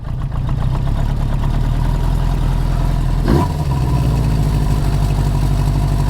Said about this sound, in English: Let me see if we can turn this idle down a bit.